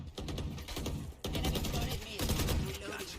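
Fast rapid-fire shots rattle off in dense bursts during a League of Legends match, loud and continuous with a brief gap partway through, over busy game effects.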